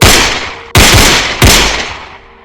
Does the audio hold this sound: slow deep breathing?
no